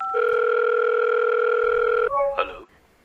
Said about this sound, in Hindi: अभी उन्हें फ़ोन लगाती हूँ।